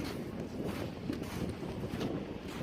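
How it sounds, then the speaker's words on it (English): Steady wind buffets the microphone outdoors on a hiking trip, a constant low roar with gusty rumble and no clear voice over it. "I don't know if you can hear me either because of the wind"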